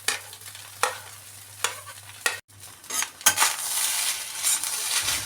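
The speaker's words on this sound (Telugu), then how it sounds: "ఇప్పుడు ఎగ్ వేసాం కదా, ఇంకా బాగా కలుపుకోవాలి" Egg stirred into fried rice in a pan over a high flame: loud sizzling with a few sharp spatula scrapes against the pan, then a denser, continuous frying hiss.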